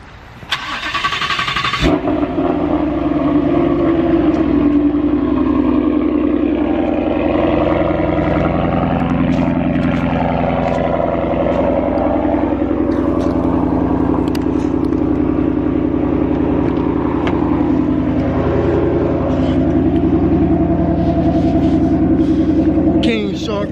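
A 2018 Ford Mustang GT with a 10-speed and Corsa exhaust cold starts with a sharp crank and catch, then settles into a loud, steady, deep idle that rumbles on close by for over twenty seconds.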